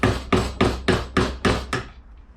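An old screwdriver is hammered against a rear brake pin on a 1998 Suzuki GSF1200 Bandit: seven sharp, evenly spaced metallic taps ring close and loud, then fade into quiet.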